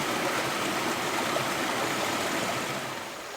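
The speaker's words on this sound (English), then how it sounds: "you have a slap, an echo as the water hits and trickles and comes through." A babbling brook in the Cook Islands trickles and splashes over rocks, a steady, close, full rushing wash that holds evenly and eases slightly at the end.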